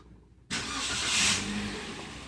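A 2016 Daihatsu Xenia engine starting: quiet background, then an abrupt catch that rises into a brief rev before settling into a steady idle close by.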